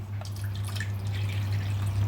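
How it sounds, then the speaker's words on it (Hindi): Measured water is poured into a mixer jar holding ground chana dal, a steady close trickling splash over a low mains hum, with no talking. "और अब ले लेंगे पानी और फिर से डालेंगे माप करके पानी।"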